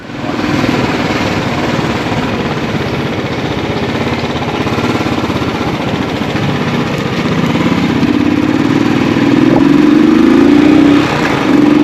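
Motorcycle engine running steadily at the start of a ride from Noida toward Phata, Uttarakhand, a loud continuous rumble that swells as the throttle rises near the end, with no talk.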